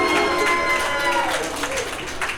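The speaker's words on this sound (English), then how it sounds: "give it a big round of applause for Mitchell and" Wedding guests at Maritime Parc clap and cheer for the newlywed couple, a continuous dense round of applause with scattered voices, steady and moderately loud before tapering slightly.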